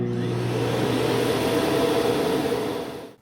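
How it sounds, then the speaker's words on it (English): Mova P50 Pro Ultra robot vacuum base auto-emptying the dustbin, a loud, steady whooshing suction roar that runs continuously and then cuts off at the end. "it went back to the base and emptied itself, which was completely autonomous"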